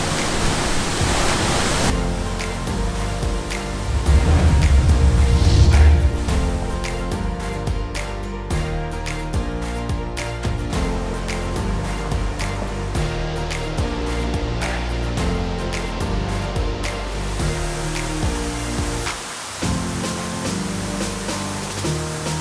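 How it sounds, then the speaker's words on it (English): A powerful waterfall in Bali roars as a dense, continuous wash of rushing water. Music plays over it for most of the stretch, and a short dip comes near the end. "This is by far the most powerful waterfall we've seen today."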